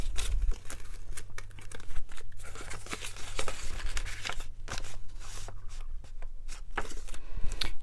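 Paper cash bills crinkle and rustle in quick, close handling as they are counted and slipped into an envelope, soft papery crackles and swishes over a low background hum.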